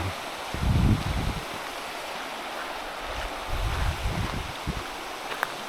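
The Luzège, a trout river in Corrèze, flows steadily near a bridge crossing, a continuous broad rush of water with low gusty rumbles and no voices.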